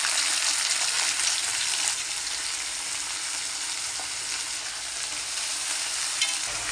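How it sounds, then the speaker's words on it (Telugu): Broad beans and onions fry in a pan with a steady, bright sizzle heard close and alone, with soft occasional stirring scrapes under the continuous hiss. "ఇది చిక్కుడుకాయ ఫ్రై చేస్తున్నాను ఫ్రెండ్స్"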